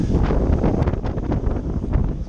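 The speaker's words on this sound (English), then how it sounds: "Beautiful wind right now" Steady wind buffeting the microphone at a beach point in Ventura, rigged for kite surfing with a 10 meter kite and surfboard amid light chop; a constant loud rush with gusty swells throughout, no voice.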